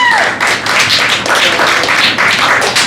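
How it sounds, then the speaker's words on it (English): An audience claps at a comedy night in a Richmond, Virginia cafe, with a few seconds of steady, close, crackling applause and no talking. "give them another round of applause"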